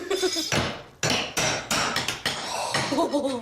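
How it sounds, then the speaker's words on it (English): A hammer smashes kitchen tile in a run of about eight heavy, sharp blows at an uneven pace. Each close, loud crack is followed by a crunchy rattle of breaking tile. "so I'm going to give you a hammer. Oh. That way you can smash."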